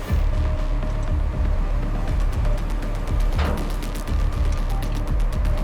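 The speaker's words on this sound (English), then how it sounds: "lowering the hatch now" A submersible's hatch is lowered and secured, giving a steady run of ratcheting mechanical clicks and creaks with a brief metallic scrape midway, close and continuous throughout.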